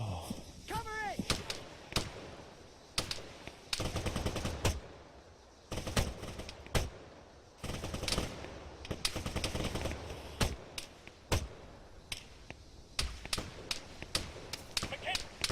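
Gunfire in the Arma 3 combat video game: sharp shots and bursts crack at irregular intervals, near and far, mixed with shouted voices calling orders.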